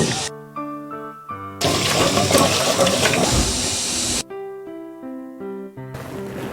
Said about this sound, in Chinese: 这个做凉皮的用冷水和面，边加水边搅